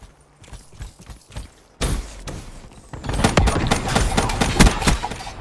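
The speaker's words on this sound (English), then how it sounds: "It fires so slow, but it's so deadly." In a first-person shooter game, a slow-firing but deadly gun lets off sharp, punchy shots in an uneven rhythm, sparse at first, then denser and louder bursts with crackling impacts toward the end.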